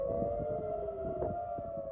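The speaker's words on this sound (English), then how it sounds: "Sirens rang out across central Tel Aviv" Air raid sirens wail across central Tel Aviv during a rocket attack from Lebanon, a steady, sustained droning tone that holds level throughout.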